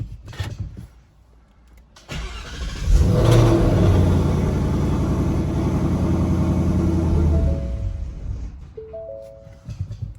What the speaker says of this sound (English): you can go in and start the car and it'll run out of gas